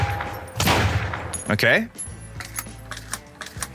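A shotgun in a video game sandbox mode fires and is reloaded, with loud blasts followed by clicking, rattling reload mechanics. A voice speaks briefly over the sounds.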